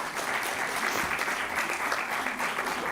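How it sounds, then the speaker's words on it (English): Convocation audience applauds at the ICFAI Law School 15th convocation, a dense, steady clapping from a large hall crowd that holds at an even level for about three seconds with no voices on top. "big round of applause for them"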